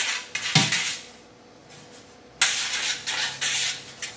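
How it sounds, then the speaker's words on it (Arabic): A metal baking tray for homemade bread clatters and scrapes against a kitchen surface, with a sharp clank near the start and another burst of handling noise midway, followed by softer rubbing and tapping. "المهم انا غادي ناخذ هذه البلاكه وغادي ندهنها بالزيت مزيان"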